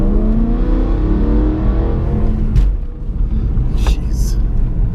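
A 2011 or 2012 car's engine revving loudly and close by, with a deep rumbling roar that swells and settles over several seconds.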